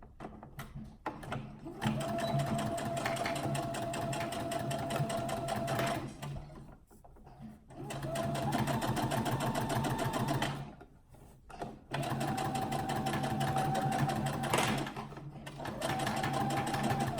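A sewing machine stitches a 3/8 inch seam allowance to attach binding, running in long steady bursts of fast mechanical whirring with short pauses between runs.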